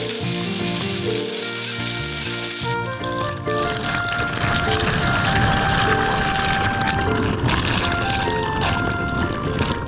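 Risang waterfall in the hills of Khagrachari sends out a steady, loud wash of rushing water, with music playing over it throughout.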